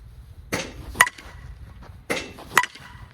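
A 2026 Green Zen USSSA baseball bat strikes a ball twice, each time a crisp metallic ping following a brief rustle of the swing. The cracks are close and bright, with quiet gaps between them.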